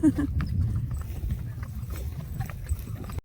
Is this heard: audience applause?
no